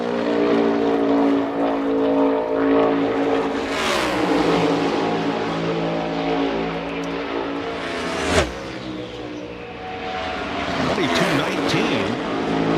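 A NASCAR Cup Series stock car engine on a qualifying lap roars loud and sustained, its pitch dipping as the driver lifts off the throttle and then rising again, with a sharp burst as the car passes close.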